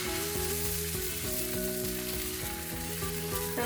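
A ladle of dosa batter meets a dry hot pan without oil and sizzles steadily, a soft even crackle over a low humming background, with no voices.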